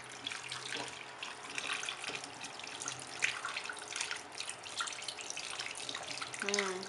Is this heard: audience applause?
no